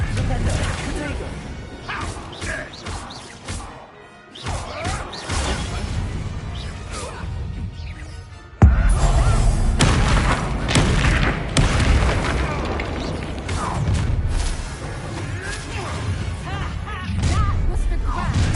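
Confringo spell explosions in a Harry Potter video game boom and crash repeatedly, loud booming blasts with whooshing bursts filling the action-heavy scene, punctuated by a sharp heavy impact midway.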